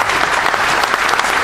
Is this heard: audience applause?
yes